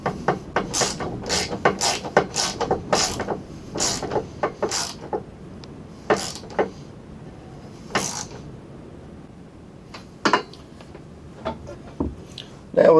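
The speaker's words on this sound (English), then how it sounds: "Now all we gotta do is finish tightening up these Torx bolts" Tightening Torx bolts with a ratchet while installing nerf bars on a 2020 Turbo RZR, with a quick run of clicking ratchet strokes and then sparser, slower clicks, close by, with no talking.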